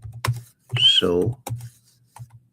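Keys on a computer keyboard clack in short, separate bursts near the microphone, with someone speaking briefly partway through.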